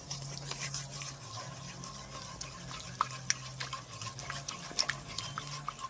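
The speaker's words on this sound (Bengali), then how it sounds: "এবার আমি ভালো করে গুলে নেব।" A powdered milk and salt mixture being stirred to dissolve it, giving soft, continuous swishing and scraping with a few light clinks against the vessel. The sound is close but quiet, and a low hum runs underneath.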